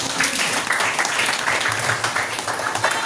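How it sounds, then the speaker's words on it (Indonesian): A class of schoolchildren applauds during an Islamic studies lesson, a fairly loud, continuous patter of many hands clapping close by for about three seconds. "tepuk tangan buat kalian"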